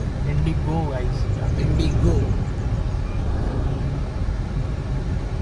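A Tata Indigo car driving, with a low, continuous engine and road hum heard from inside the cabin under people talking.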